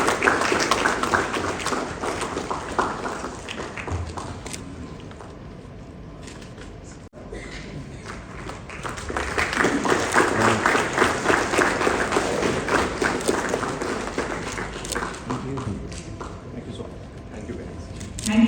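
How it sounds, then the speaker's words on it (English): An audience at a water innovation summit in India applauds steadily and loudly throughout, the clapping dipping briefly midway before swelling again. "A round of applause, please."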